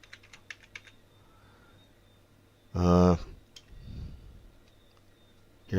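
Keywords are typed on a computer keyboard as a quick run of light key clicks, soft and close, broken by brief bursts of speech.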